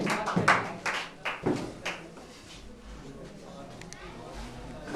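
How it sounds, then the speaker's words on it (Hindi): A few sharp claps ring out at a quiz event after a correct answer, followed by a thinner, quieter scattering of applause that fades into room noise. "राइट आंसर, जोरदार तालियां बजाइए।"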